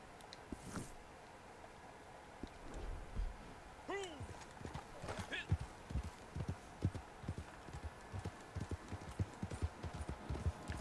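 Horse hooves clatter in a steady clip-clop rhythm through a video game scene, rising in density toward the end, with a whinny-like tone early on and a voice talking intermittently over the steps.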